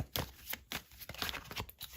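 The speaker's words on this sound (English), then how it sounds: "let me shuffle again" Tarot cards being shuffled by hand during a live reading, heard up close as a quick, irregular series of soft papery riffles and snaps, with no talking over them.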